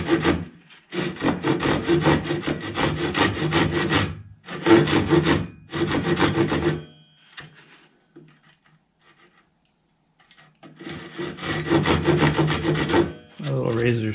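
Hand saw cutting a notch for a guitar top brace into the wooden rim, close rasping strokes in long runs separated by pauses, with a quiet gap in the middle.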